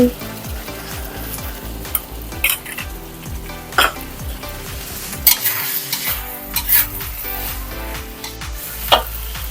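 Pork belly stir-fry in a Thai home kitchen: a steady sizzle of food frying in a pan, broken by repeated stirring scrapes and occasional clanks of the utensil against the metal, close and with no talking.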